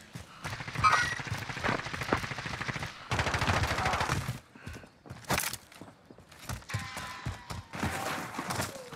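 Video game gunfire in a buyback duos match cracks out in rapid bursts and long automatic strings, some close and loud, others sparser and farther off, with brief gaps between volleys.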